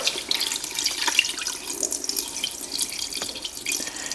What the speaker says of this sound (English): I'm going to cover up with water.